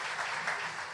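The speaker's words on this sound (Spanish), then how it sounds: "Démosle un aplauso a ella también" A church congregation applauds together, a steady wash of many hands clapping at even loudness with no talking over it.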